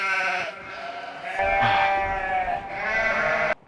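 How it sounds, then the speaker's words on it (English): A sheep bleats outdoors in Somerset countryside, two or three drawn-out wavering cries close by and fairly loud, ending abruptly. "I didn't hallucinate that sheep"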